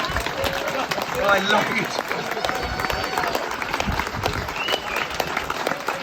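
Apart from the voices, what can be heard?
crowd applauding at a campaign event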